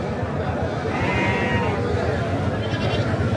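Goats bleat at a busy livestock market in Pabna: a wavering bleat rises over the steady loud hubbub of the crowd, with people talking throughout.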